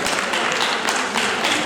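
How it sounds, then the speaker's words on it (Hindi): Brief, dense burst of audience clapping at a classical dance memorial event, loud and continuous with a bright, crackling texture. "जोरदार तालियों के साथ अभिनंदन।"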